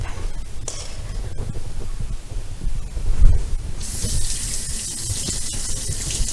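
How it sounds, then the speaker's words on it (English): Running tap water pours steadily while hands are washed at a kitchen sink during preparation of bigos and bread, with the flow brightening into a stronger hiss partway through; no voices. "It's lots of hand washing because things just get stuck to your hands"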